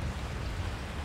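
Steady rain falling in the Resident Evil 4 video game, a soft continuous wash of low hiss that stays even and unbroken throughout.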